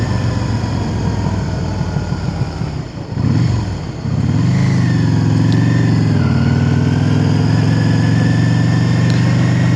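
A motorcycle on a Lake District ride from Gosforth to Ennerdale, its engine close and loud, dipping and revving around the middle before settling into a steady rising drone.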